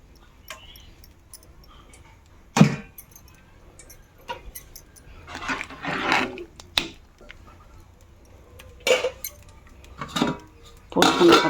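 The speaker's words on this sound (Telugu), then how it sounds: "ఈ పప్పు పోసేసుకోవాలన్నమాట" Cooked lentils are scraped and poured from a metal vessel into a sambar pot. Irregular close metallic clinks and knocks sound between quieter scraping stretches, with no speech.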